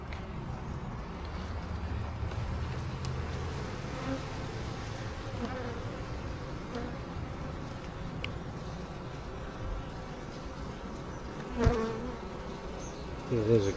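Honey bees buzz steadily around an open beehive during a spring inspection, a continuous soft drone of many insects close by, with a few faint knocks of the frames being handled.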